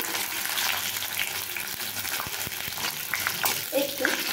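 Raisins and cashews frying in a pan of oil with a steady sizzle, broken by a few soft knocks as they are stirred.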